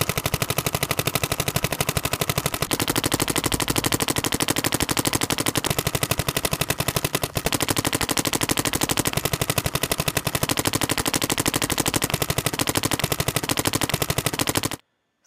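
Planet Eclipse Gtek and Etek 5 paintball markers firing in sustained rapid bursts, a dense, even rattle of pops that runs nonstop for about fifteen seconds, loud and close, then stops abruptly.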